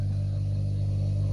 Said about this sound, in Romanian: Ce se aude în podea este compresorul.